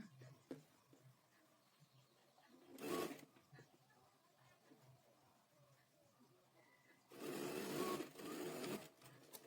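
A sewing machine runs in two short bursts while stitching over the piping on a shirt, each a close, brief whirring rattle separated by quiet pauses with light handling clicks.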